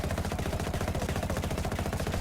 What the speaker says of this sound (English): Let's fire the Mark 18 next to it.